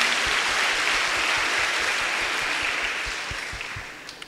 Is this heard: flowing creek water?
no